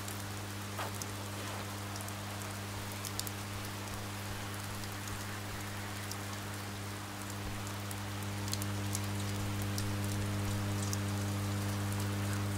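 A rainstorm in the Oxenfree video game: steady rain patters on surfaces under a constant low hum, an even, dense wash of droplets lasting throughout with no talk.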